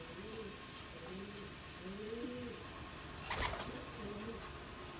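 Pigeons kept in a loft coo in soft repeated low phrases, faint and close, with a brief rustle or flutter midway and light background hiss.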